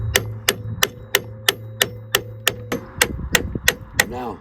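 A hammer drives a tool against the bottom nut of a motorcycle suspension in about thirteen evenly spaced, sharp metallic blows, close and loud with no talking.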